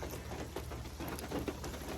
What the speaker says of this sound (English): it's starting to rain really bad. So you hear all the rain.